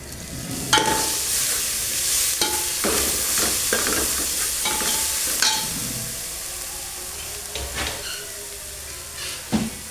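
Onions fry in a pan for homemade mutter paneer while a spoon stirs them now and then, making a continuous loud sizzle broken by scraping strokes and knocks. Nobody talks over it.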